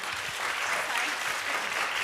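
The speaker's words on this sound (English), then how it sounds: "we are going to give everyone a round of applause." Steady, sustained applause from an audience at a youth research and evaluation conference, a broad wash of many hands clapping at moderate distance without pause.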